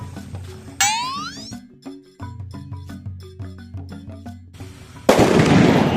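Diwali firecrackers burst in a rapid string of sharp cracks and pops, a whistling rocket streaking upward early on, then a loud dense crackling burst at the end.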